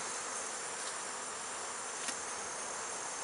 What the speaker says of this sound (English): These bees here are cleaning up the sugar water off of that